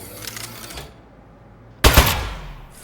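A rapid burst of gunfire from an Aperture Science turret in a video game erupts loud and close after a quieter stretch, rattling for about a second before tailing off.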